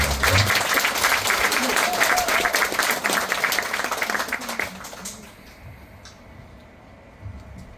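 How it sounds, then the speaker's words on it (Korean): A crowd at a political party members' meeting in a hall claps loudly and steadily for several seconds, then the applause dies away into quiet room tone. "박수 한번 보내주시기 바랍니다"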